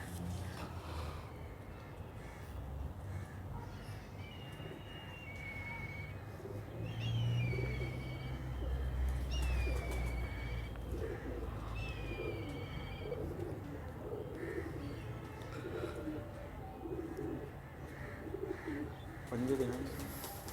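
Shaheen pigeons cooing softly, a few low throaty coos standing out now and then against a steady ambient background, with short chirps from other birds and occasional murmured talk nearby.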